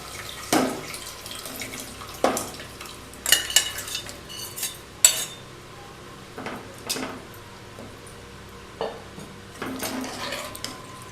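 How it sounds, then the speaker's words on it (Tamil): Water poured into a pot of elephant yam pieces for a South Indian kuzhambu, with scattered clinks of a metal vessel and spoon stirring across the clip and soft splashing between. "சேனக்கிழங்கு லைட்டாக முங்குற அளவுக்கு தண்ணி ஊற்றினேன்"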